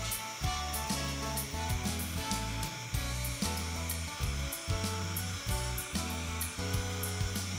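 A hair dryer blows on glue crackle finish coating a gourd vase, a loud steady whirring hum with rhythmic pulsing as it is moved about, heard alone.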